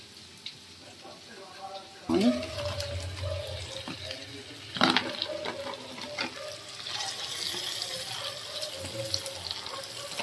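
Fish being rinsed under a running tap while preparing a khagga fish curry, the water splashing steadily with a few sharper clatters, and a voice talking over it now and then.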